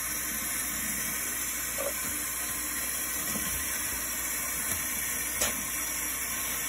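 Water poured over a chicken's soapy feathers during a bath, a steady low trickle and splash running throughout with a few brief louder spills, no talking.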